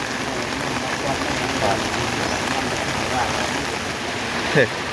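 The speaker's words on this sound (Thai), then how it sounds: "มาถ่ายทำคลิปนะครับก็ฝนตกนะครับ" Rain falls steadily over a garden at a Thai country house, a dense even patter close by that continues throughout, with a faint brief voice near the end.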